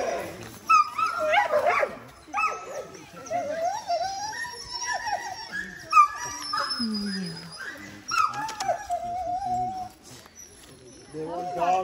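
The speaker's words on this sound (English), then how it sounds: "There are dogs, Sumla." Sled dogs at a musher camp in Skagway, Alaska whimper, yip and bark in overlapping bursts nearby, with people talking among them.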